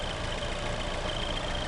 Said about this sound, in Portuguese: o motor está funcionando aqui